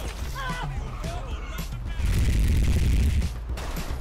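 Loud, dense gunfire and booming blasts in an action roguelike video game, with a burst of rapid shots building into a sustained roar over game effects and a speaking voice.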